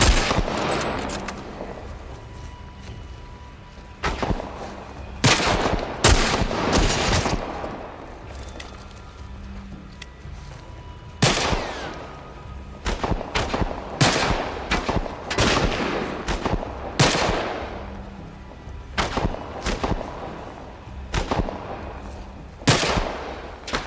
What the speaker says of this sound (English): Supposed to be an armor-piercing fucking round.